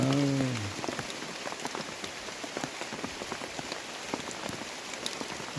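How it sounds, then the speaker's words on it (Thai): Steady rain pours down in a forest, a dense continuous patter of drops striking leaves and the ground, with scattered louder nearby drips throughout and no voices. "ฝนตกทุกคน"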